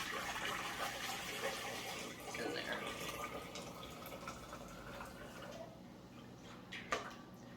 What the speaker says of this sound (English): we're gonna pour the simmering hot water